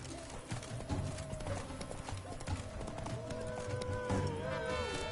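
Horse hooves clip-clopping at a quick pace in The Witcher 3: Wild Hunt, steady rhythmic footfalls with a soft whinny and a brief voice at moments, fairly quiet overall.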